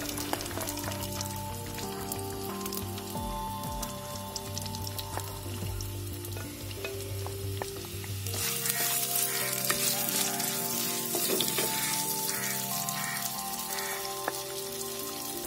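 Chopped onion fried with curry leaves in a clay pot for a Kerala fish curry, a bright crackling sizzle that jumps sharply louder partway through as the onion hits the hot oil, close and steady, with no speech.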